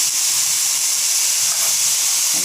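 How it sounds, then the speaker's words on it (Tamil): Broccoli sizzling in a hot pan during stir-frying gives a loud, steady, unbroken hiss that fills the whole stretch, with no voices. "அந்த ப்ரோக்கலியை போடுறேன்."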